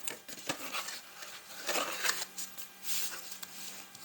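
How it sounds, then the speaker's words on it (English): Paper folded and burnished along scored lines for a wallet, soft rustling and rubbing strokes coming in uneven bursts, faint and close. "I'm just going to go ahead and fold and burnish on those lines"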